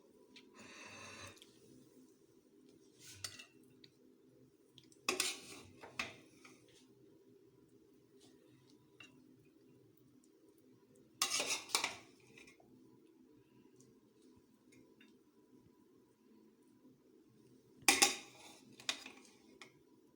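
Jaggery rice with dates being served out of a cooking pot, a few separate bursts of metal spoon scraping and clinking against the pot spaced over a quiet background.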